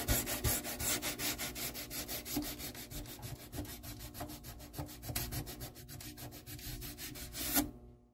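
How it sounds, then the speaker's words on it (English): Rhythmic wet sanding strokes rub steadily back and forth across a resin-coated surface before a finish coat, an even close scrubbing pulse repeating for several seconds alone. "it's time to do some wet sanding before we cover it with UK finish"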